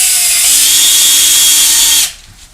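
A power drill drives 2.5-inch deck screws into wooden boards while a woodworking bench is assembled: one loud, continuous motor whine of about two seconds that cuts off abruptly, leaving near-silence.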